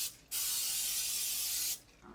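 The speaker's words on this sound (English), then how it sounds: "you want to get your pan sprayed with some nonstick spray" Nonstick cooking spray sprayed onto a 9 by 12 baking pan, one steady loud hissing burst lasting about a second and a half, close and clear.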